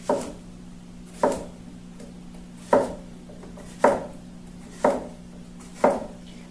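A CUTCO knife slices through zucchini and asparagus on a cutting board, six crisp, evenly spaced chops about a second apart, each a sharp thud with a quick tail, close up and with no talking.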